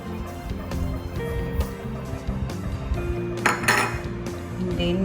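A utensil stirs brown sugar into coconut milk in a bowl, clinking and scraping against the dish in irregular close taps, with a brief louder clatter near the end.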